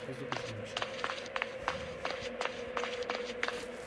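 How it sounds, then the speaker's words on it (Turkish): Footsteps in the Alice Madness video game's mental hospital level fall in a quick, even run of light taps over a steady tonal game drone. "Anam ayak sesi."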